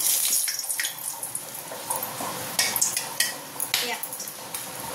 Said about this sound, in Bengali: প্রথমে তো একটা কড়াতে তেল নিয়েছি, তেলের পরিমাণটা একটু বেশি হবে। গোটা গরম মশলা আর একটা তেজপাতা